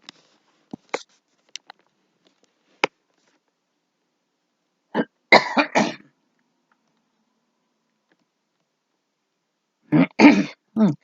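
A person with food stuck in their throat after eating a salad makes several short sharp clicks and hacks, then two bursts of harsh throat clearing separated by silence.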